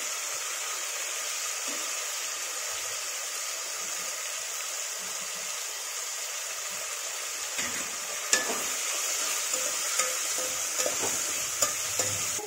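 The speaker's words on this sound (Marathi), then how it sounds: "आपल्याला कढीपत्ता, कोथिंबीर पण टाकून घ्यायची त्याच्यामध्ये। हे पहा, आणि खोबरं सुद्धा काय करायचंय, आपल्याला याच्यातच परतून घ्यायचे" Grated coconut, curry leaves and coriander are sautéed in a pan with a steady, even frying hiss throughout. Occasional light spatula taps break through in the second half.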